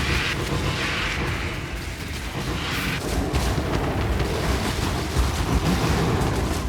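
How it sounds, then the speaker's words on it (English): A loud, rumbling explosion bursts in Path of Exile during a Harvest crop-rotation run, a dense roar that swells and churns for several seconds with crackling debris and no talk. "Prepare for the explosion."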